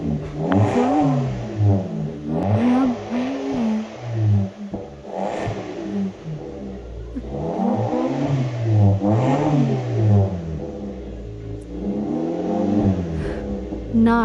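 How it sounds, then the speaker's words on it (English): A Vauxhall Agila fitted with a backbox-delete exhaust revs repeatedly in loud, deep surges that rise and fall every couple of seconds, up close with no talking over it. "And this is what it sounds like with a backbox delete."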